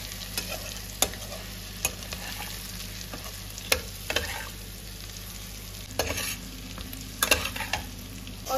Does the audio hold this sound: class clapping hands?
no